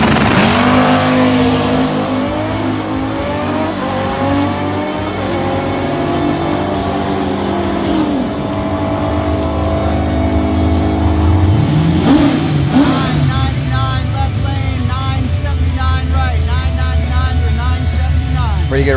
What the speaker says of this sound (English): here he is racing a very fast drag car right here